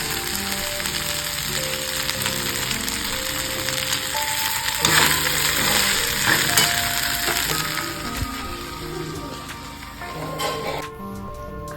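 Leftover cooked rice tempered and frying in a pan, a loud continuous sizzle with stirring clatter and scraping running throughout, close by and with no voices.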